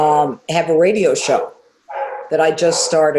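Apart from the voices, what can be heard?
dogs barking in the house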